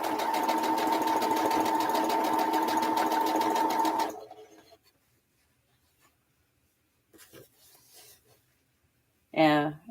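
A sewing machine stitches in a fast, steady, loud whir for about four seconds and then stops. Faint rustling and brief speech follow.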